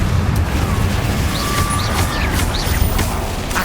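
A Confringo blasting spell cast in Hogwarts Legacy, a dense crackling blast with rumbling booms and short whooshing streaks sustained at close range over a few seconds.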